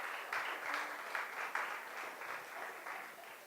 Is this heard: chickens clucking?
no